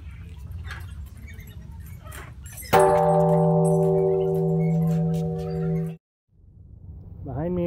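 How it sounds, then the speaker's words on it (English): A large Japanese peace bell is struck once and rings with a sustained, resonant tone that fades away over a few seconds before stopping abruptly. "Behind me is a Japanese peace bell."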